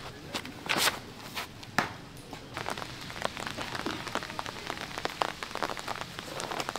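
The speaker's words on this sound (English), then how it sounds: "The rain has started to fall." Rain begins falling on a disc golf course, a close patter of drops striking surfaces with a few sharper splats and light shuffling steps, steady and unaccompanied by talk.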